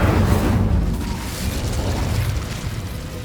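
A fire spell cast in Hogwarts Legacy erupted in a deep, roaring burst of flame that held loud and rumbling for a few seconds before easing slightly.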